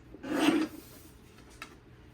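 A paper trimmer cutting paper for scrapbooking: one short, close rasping slide of the blade, followed by a faint tap a second later.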